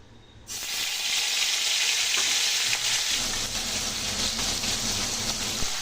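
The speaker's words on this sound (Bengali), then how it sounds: "তো মাছগুলোকে ভালো করে হচ্ছে উল্টো পাল্টে ভেজে নিচ্ছি" Prawns dropped into hot oil set off a sudden loud, dense sizzle that holds steady and close, with faint spatter and occasional stirring under it, no voices.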